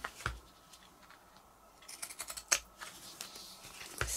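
Pinking scissors snipping notches into fabric while sewing a small sanitizer-gel case, a few quiet sharp clicks, sparse at first and then quicker in a short close-up run, with no talk.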